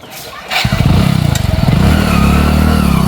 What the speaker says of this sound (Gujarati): આ હેડ બાઈક મારું હોન્ડા લઈને નીકળું